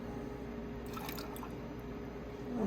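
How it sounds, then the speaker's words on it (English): Lemon juice trickles briefly into a cocktail shaker with rum, vodka and pineapple juice, a short near pour with soft dripping and splatter and no voices. "1/2 ounce of lemon juice."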